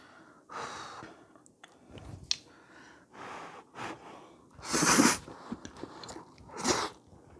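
Someone eats Ottogi Jjaslang black-bean noodles with a fried egg and homemade cucumber kimchi, with close, loud slurps, chewing and breathy bites coming in bursts and no talk.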